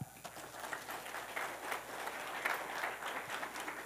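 An audience at a Sunday gathering claps together in a sustained, fairly quiet burst of applause heard from some distance, with no talk over it.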